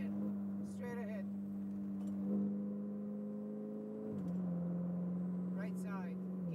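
Ferrari 488 GTB sports car driving a cone course on a Las Vegas track, its engine droning steadily and shifting pitch as it slows and speeds up, with an instructor talking over it.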